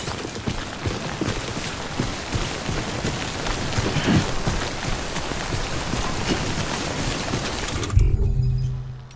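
Timefall rain from the video game Death Stranding hisses down as a dense, steady downpour with scattered pattering drops, then drops away sharply near the end.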